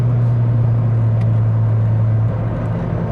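A BMW 3 Series E46 engine hums close by as a steady, loud low drone with a deep idle tone that shifts slightly near the end.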